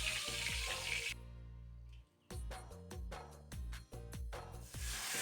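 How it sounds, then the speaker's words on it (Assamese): Bay leaf, whole cumin and whole garam masala spices sizzle in hot oil in a wok, a fairly quiet crackling hiss that cuts off and resumes in short bursts, as if stirred. "এতিয়া কেৰাহীত তেল দিছোঁ, তেজপাত আৰু লগতে কেইটামান গোটা জিৰা দিম আৰু অলপ গোটা গৰম মছলা।"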